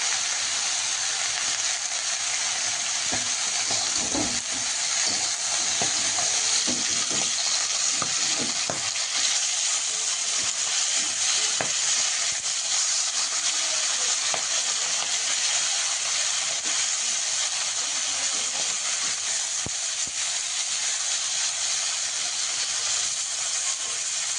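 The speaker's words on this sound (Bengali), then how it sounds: "এখন এই কলা হেলাঞ্চো শাকটা একটু ভালোভাবে কষিয়ে নেব" Kola helencha greens frying and being stirred in a pan in a home kitchen, a steady loud sizzle and hiss with intermittent scraping and stirring clatter, and no talking.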